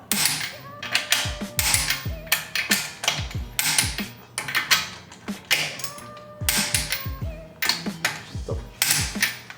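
A hand ratchet clicks in repeated quick bursts while tightening the wheel lug nuts on a 2024 Acura Integra Type S fitted with 15mm spacers, the close, crisp ratcheting rising and pausing rhythmically throughout.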